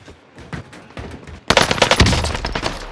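Rapid automatic gunfire rings out in Call of Duty Warzone, first lighter bursts then a loud, dense volley of shots from an MP40 submachine gun, with no talking.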